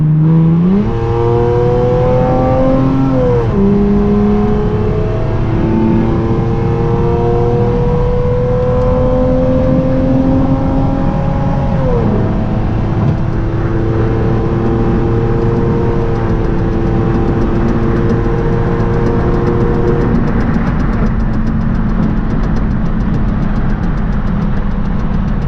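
A Lexus IS300 engine accelerates from inside the car, its pitch climbing and dropping as the automatic transmission shifts gears, loud and steady throughout with no talking.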